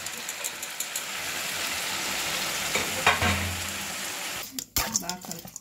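Deep-fried gobi (cauliflower) is stirred in a hot pan with a steady sizzle, then a spoon clatters and scrapes against the pan near the end; no talking.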